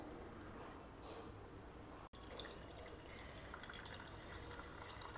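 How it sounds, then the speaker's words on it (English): Excess soaking water drains from soaked poha through a sieve, making a steady, close, low-level trickle and wash of liquid with no talk over it. "Now we will drain out the excess water."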